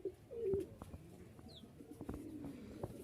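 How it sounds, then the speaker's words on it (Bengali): A pair of Rajshahi Giribaj flying pigeons coo softly nearby, low throaty purrs rising and falling in short repeated phrases, with faint chirps and light background clatter and no speech. "রাজশাহীর এক জোড়া উড়াবাজি কবুতর।"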